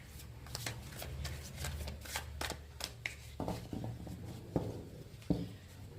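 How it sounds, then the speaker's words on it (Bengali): Tarot cards being shuffled by hand, a run of quick papery riffles and flicks followed by a few sharper taps and slaps, close and fairly quiet over a low background hum. "আর একবার সাফল করব, করে তারপরে কার্ড নেব।"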